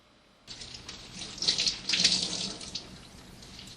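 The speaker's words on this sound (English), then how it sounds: "Turn the faucet off." A faucet runs water into a sink during denture care in a resident's room, a steady splashing gush that starts suddenly and continues at moderate level, swelling briefly in the middle before settling.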